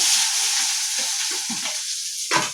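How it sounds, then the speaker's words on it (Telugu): Mustard seeds frying in hot oil in a pan as the tempering for an egg fry, giving a steady, close sizzling hiss with soft sputtering pops and a sharper crackling burst near the end. "ఆవాలు ఆయిల్ వేడెక్కింది, కొన్ని ఆవాలు వేసిందాను"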